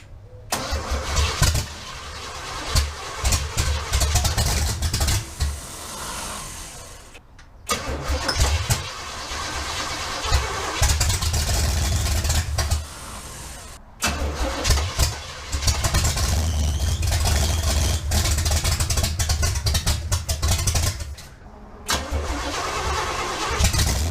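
The 454 engine in a 1965 C10 truck is cranked over repeatedly, each attempt a loud grinding churn broken by short silences, before it catches and runs roughly with rising revs nearby.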